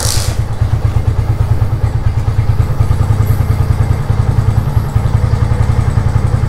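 A motorcycle engine fitted with a Tiger voltage regulator on a full-wave charging system idles close and loud with a steady rapid thumping pulse throughout, no voices.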